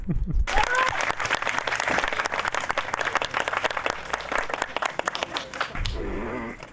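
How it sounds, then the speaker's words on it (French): Audience applause at a French comedy show, a burst of crowd clapping with distinct individual claps, fairly close, fading near the end as a voice comes in. "Et je vous demande de l'applaudir parce que pour lui, c'est pas simple, c'est pas facile."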